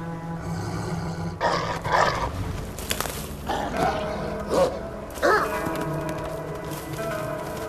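A dog barks in the video game Assassin's Creed Valhalla, with several loud, gruff, growly bursts spread across the clip over a steady game background of music and ambience.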